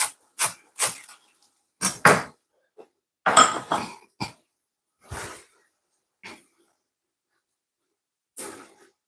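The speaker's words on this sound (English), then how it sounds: "I'm chopping the spring onion up." A knife chops spring onion on a board for Jamaican patty filling, giving a series of sharp, close, irregularly spaced cuts separated by silent gaps.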